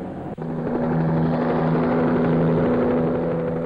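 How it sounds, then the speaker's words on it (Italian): Helicopter flying out to an AGIP offshore oil platform in 1965, a loud steady rotor drone with a constant engine whine, close and uninterrupted. "L'elicottero unisce il paguro alla terraferma."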